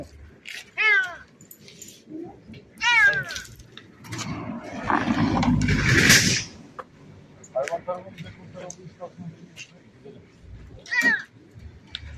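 A cat meows in several rising, wavering cries spaced a few seconds apart, close and clear, while someone talks between them and a burst of rustling noise passes in the middle.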